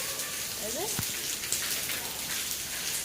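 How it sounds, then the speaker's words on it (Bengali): Heavy storm rain pours down steadily in a broadband hiss with strong wind, close and constant, with a brief sharp knock and a faint chirp partway through. "একটা থেকে মানে অসম্ভব ঝড় অসম্ভব বৃষ্টি এখনও পর্যন্ত কন্টিনিউ হয়েই চলেছে"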